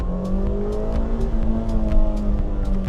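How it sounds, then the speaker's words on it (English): Aftermarket exhaust on a JDM hatchback, a Honda Fit RS or Suzuki Swift Sport, rumbling through a revving engine, with steady harmonic drone and rising, falling pitch sweeps close by, no talk over it. "Not the stock exhaust, but it's not super aggressive either."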